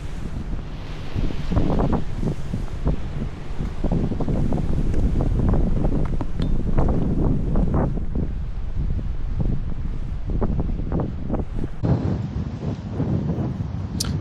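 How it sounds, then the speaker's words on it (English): Strong wind buffets an open microphone at Miami's South Beach in bad, rainy weather, a loud continuous roar broken by heavy gusting thumps, with no voices heard. "It's very windy today"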